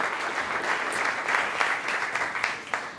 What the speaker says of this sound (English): This round of applause here.